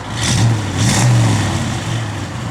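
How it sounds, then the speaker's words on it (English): A 1967 Ford Mustang engine revs hard twice in a row with a deep, throaty rise and fall, sitting close and loud over a steady idle rumble, with no talk. "Give it a rev, Jordan."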